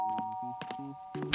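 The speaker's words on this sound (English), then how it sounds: "the doorbell rang." A two-tone ding-dong doorbell chime rings several times in a cartoon home, the steady tones repeating across the moment, with a brief clatter at the end.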